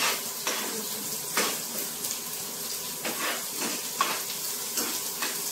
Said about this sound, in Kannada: ಮತ್ತೆ ಈರುಳ್ಳಿ ಸ್ವಲ್ಪ ಬ್ರೌನ್ ಕಲರ್ ಬರೋವರೆಗೂ ಫ್ರೈ ಮಾಡ್ಕೋಬೇಕು.